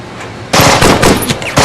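Gunfire in an action film with a dubbed soundtrack: a loud burst of rapid automatic shots starts after a short quiet lead-in and keeps cracking, with a final sharp blast at the end.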